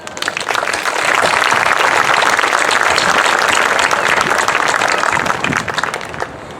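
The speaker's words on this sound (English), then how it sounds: "let's give them a big round of applause" A big round of applause from a crowd at an outdoor sculpture garden unveiling and dedication ceremony for a Martin Luther King Jr. memorial at a marina, dense and sustained for several seconds before tapering slightly.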